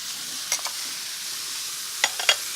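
Fennel and onions hit browned butter in a pan with a close, even sizzle. A spatula scrapes and stirs through it a few times.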